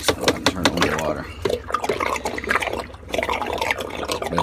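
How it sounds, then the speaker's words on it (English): Water sprays from a hose into a pool's main pump basket, a splashing gush that comes and goes in short bursts. A person talks over much of it. "if you just spray a hose pipe in there, that'll clean that up"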